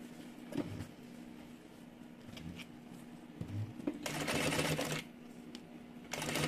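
Home sewing machine stitching a small two-in-one mini backpack, a quiet, steady mechanical whir that rises into a busier, louder run of stitching near the end, with soft handling noises throughout.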